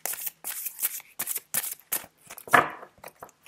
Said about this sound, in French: quand je mélange les cartes